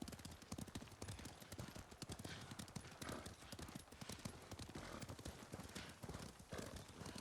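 Horse hooves gallop in a rapid, steady clip-clop rhythm throughout a Ghost of Tsushima game scene, loud and close, with an occasional whinny and a little game voice mixed in.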